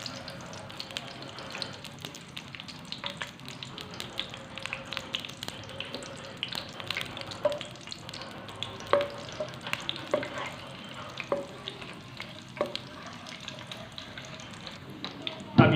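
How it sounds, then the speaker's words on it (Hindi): Ghee heats in a kadai with garam masala stirred in, giving a low, steady frying sizzle with scattered clinks and scrapes of a spoon against the pan, close and fairly quiet, with no talking. "कढ़ाई में 1 चम्मच मैंने घी शामिल किया है, घी गर्म हो रहा है, इसमें शामिल करूँगा मैं गरम मसाला"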